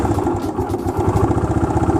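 An old Honda CS1 motorcycle engine sputters to life, settling into a steady, close, mechanical idle with a rapid clattering thump.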